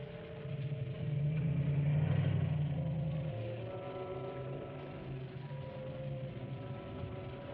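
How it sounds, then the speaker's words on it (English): A car engine rumbles from a distance, growing louder as it draws closer, then settles into a steady low hum as it idles nearby. "Listen, there is a car coming."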